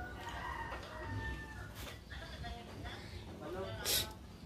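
Chickens cluck and squawk in the background while people talk nearby; one sharp squawk stands out near the end.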